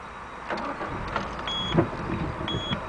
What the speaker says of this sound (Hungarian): Szépen indul az autó, és normálisan tisztán jár, ezt meg is hallgattuk.